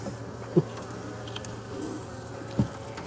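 Honeybees buzz in a steady, low, continuous drone at an opened hive on a warm day before winter, with two soft knocks of hive handling standing out briefly.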